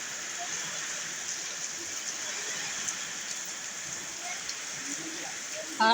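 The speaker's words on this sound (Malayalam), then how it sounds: "മരങ്ങളൊക്കെ ആകെ ആടി കാണുന്നില്ലേ നിങ്ങൾ അടിപൊളി മഴയാണ് കേട്ടോ" Steady hiss of heavy rain pouring down in strong wind, trees swaying, an even wash of noise throughout with a few scattered drop sounds.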